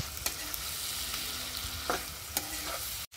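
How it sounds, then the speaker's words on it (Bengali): Shrimp and chopped onion with salt and green chili fry in a pan, giving a steady sizzle broken by a few scraping stirs, close up with no voices. "পেঁয়াজ আর মাছটা একটু ভালো মতো ভাজতে নিতে হইবে।"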